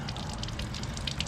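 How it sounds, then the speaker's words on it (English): Water drains steadily from a car's cooling system during a flush, a close, continuous gushing and splattering rush with no voices. "all the water's drained out"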